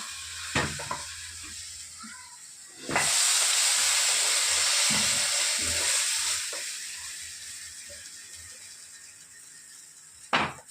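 Hot tempering poured into freshly cooked katte pongal bursts into a loud, close sizzle that hisses strongly for a few seconds, then gradually fades, with faint clinks of a pan and spoon around it.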